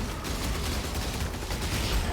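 Burst of explosion and combat effects from Path of Exile, a Cyclone Raider build fighting in a delirious tier 9 map, with dense crackling, gunfire-like bangs and booming impacts packed together over a steady game din.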